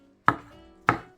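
Two sharp knife chops cut through a bunch of forest herbs on a cutting board, close and distinct, about half a second apart, with a faint tonal hum underneath.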